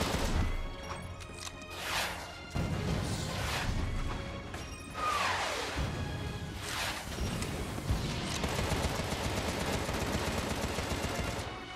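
Heavy weapon fire in the game Contra: Rogue Corps, including a big laser weapon, comes as dense, loud blasts and crashes layered over continuous action noise, with repeated bursts and a sweeping tone partway through.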